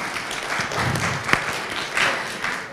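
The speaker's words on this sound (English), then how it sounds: "You got applause." Applause from the audience at a town hall meeting, a dense, even wash of clapping filling the room, steady and moderately loud, with one sharper clap standing out midway.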